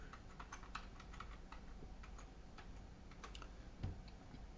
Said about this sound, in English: I'll just type in the path.